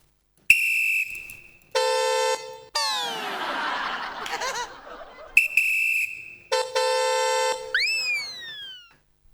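On a comedy show stage, a performer's voice imitates a vehicle horn in loud blaring honks and a sliding whoop, with laughter from the audience in between.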